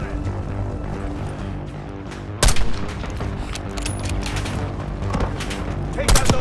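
Mortar impacts and gunfire in Call of Duty: Black Ops 6, with a sharp loud blast near the middle and another near the end over a steady bed of distant battle rumble, scattered shots and voices.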